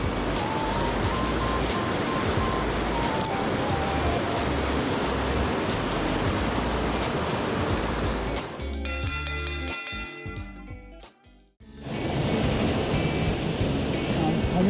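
A powerful waterfall in a mountain gorge on a stream, a dense continuous roar that cuts out abruptly near the end before returning.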